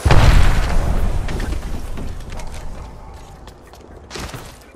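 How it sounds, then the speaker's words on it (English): A frag grenade goes off in Apex Legends with a loud, close boom at the start, then a long rumbling decay that thins out, followed by a few light clicks and rustles. "Incoming frag."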